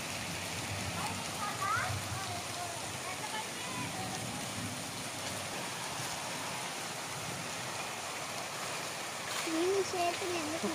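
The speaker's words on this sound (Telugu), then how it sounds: "వర్షం పడేది స్టార్ట్ అయింది." Steady rain falls in a village, a continuous soft hiss of drops with a faint stream-like wash throughout, while a voice speaks quietly over it.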